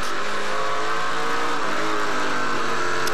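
A race car, the Acura circuit car, roars past at an oval short-track race in Quebec, a loud, dense, continuous engine howl with a slight rise at the end and no voices.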